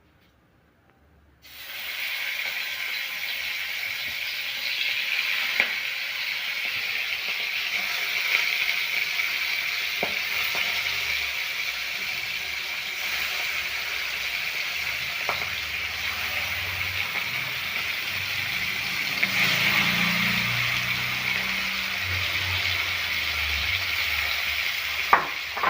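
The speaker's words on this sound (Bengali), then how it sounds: "চলুন চিকেনটা এবার আমরা ভেজে নিই।" Chicken fries in a pan over low flame, producing a continuous, even hiss that starts abruptly and holds steady, with occasional faint clinks and low rumbles underneath, and no talking.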